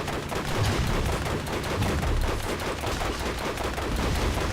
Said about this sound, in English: I love this thing with the big rockets that apparently shoot off 3 different rockets